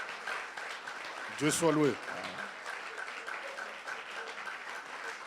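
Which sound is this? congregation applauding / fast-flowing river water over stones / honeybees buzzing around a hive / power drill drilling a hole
congregation applauding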